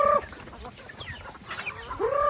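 Chickens cluck and squawk nearby, a few loud calls at the start and end with softer clucking in between.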